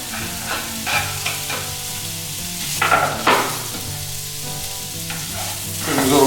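Chopped onion frying for Mediterranean-style chickpeas, a continuous close sizzle broken by several louder scraping stirs of a utensil against the pan.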